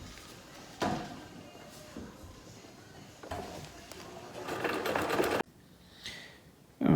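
Sewing machine stitching a flat felled seam joining two pieces of tent fly fabric, running in uneven bursts with short pauses, fairly close and moderately loud, mixed with handling noises.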